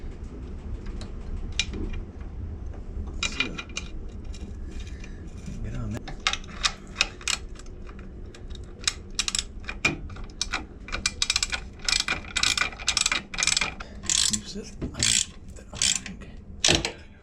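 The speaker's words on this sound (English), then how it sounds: "So I'll go ahead and tighten that up. Then I'll tighten these up." A ratchet tightens half-inch bolts on the skid plate of a 1960 Harley-Davidson Panhead, its quick rhythmic clicking coming in close bursts over a low background hum.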